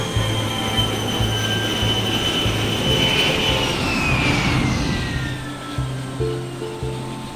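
Steady roaring airflow in a wind tunnel over a wing model pushed to maximum velocity, a loud broadband rush with a sustained whine that sweeps in pitch midway, close and continuous with no talk.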